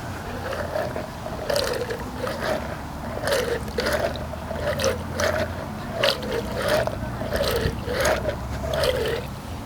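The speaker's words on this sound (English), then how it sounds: "we are going to plunge it into the Mud Buster" Great Dane's muddy paw plunged into a Mud Buster paw cleaner cup, giving repeated wet sloshing and squelching swishes in a steady back-and-forth rhythm, close up.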